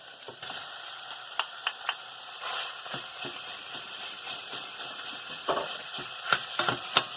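Minced beef sizzles in a hot pan, a constant crackling fry broken by sharp clicks and scrapes as the meat is stirred and broken up, close and moderately loud.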